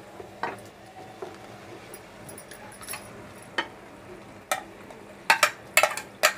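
Mashed pav bhaji vegetables stirred in a frying pan: a spoon scrapes and clicks against the metal pan, sparse at first and then quicker and louder in close, irregular strokes.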